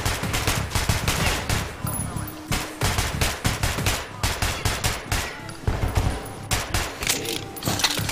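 Rapid automatic gunfire from Metro: Last Light, loud and close, fired in a steady series of short bursts with brief gaps, repeating throughout, with mechanical clatter between shots.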